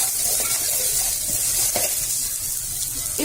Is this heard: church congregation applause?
no